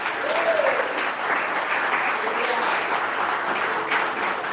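A church congregation applauds during a Spanish-language sermon, sustained clapping from many hands spread through the hall, steady and moderately loud, with a faint voice briefly audible over it.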